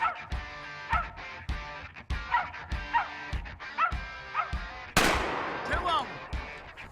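A hunting dog barks repeatedly up at a treed squirrel in thick woods, with steady loud bow-wows in a regular rhythm, followed by a sharp blast and a brief yip.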